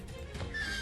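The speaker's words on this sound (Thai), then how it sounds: "ซัมมอนม้าไปตบมัน" A summoned horse in the strategy tower-defense game Three Kingdoms Clash gives a quick clip-clop of hooves and then a high whinny that rises near the end, with game noise underneath.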